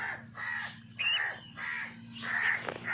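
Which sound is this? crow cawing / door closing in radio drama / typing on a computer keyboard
crow cawing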